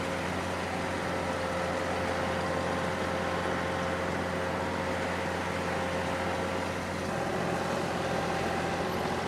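A tractor drives a PTO power rake across rough ground for grading, its engine giving a loud, steady drone with a constant mechanical hum and rattle that holds unbroken throughout.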